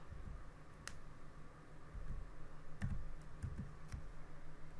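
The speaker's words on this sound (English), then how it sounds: "I'm going to go to the next line and I'm going to type p.print2" Steady clicking of keys on a computer keyboard as code is typed, soft and close, with a few sharper taps and no talking.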